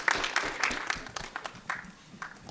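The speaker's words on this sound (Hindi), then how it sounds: "ताली बजाओ।" An audience claps at a film trailer launch event, a dense scatter of overlapping hand claps that holds fairly steady, then thins and softens toward the end.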